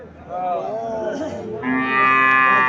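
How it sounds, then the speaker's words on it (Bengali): A Sahiwal breed heifer calf, about nine or ten months old, moos loudly at close range in a long, drawn-out call that rises into a second, brighter bellow. "সাইওয়াল জাতের বাছুর"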